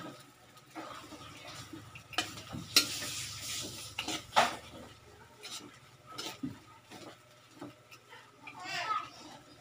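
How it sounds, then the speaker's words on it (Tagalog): Seafood paella rice with oyster sauce is stirred in a pan, with a spoon scraping and clinking against the metal in bursts over a soft sizzle, while a voice talks intermittently. "Yan, haluin lang natin."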